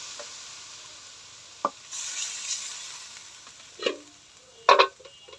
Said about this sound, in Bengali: মশলার সাথে সবজিগুলো কষাই নেব